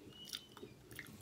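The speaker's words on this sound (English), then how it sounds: "I've been chewing this candy for days." Banana and peanut candy is chewed close to the mouth, soft faint sticky mastication with a few small crunchy clicks at irregular moments over about a second.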